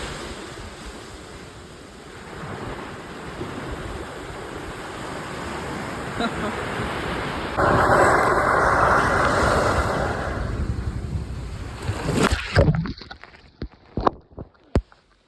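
Sea waves wash onto a beach, a broad rushing surf with wind buffeting the microphone; a louder wave swells midway before the sound breaks up into handling knocks at the end.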